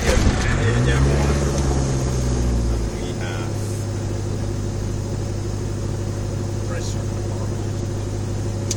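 A small airplane engine runs steadily at an airport near Oulu, Finland: a loud, continuous droning hum whose pitch shifts and settles after a few seconds, with speech faintly over it.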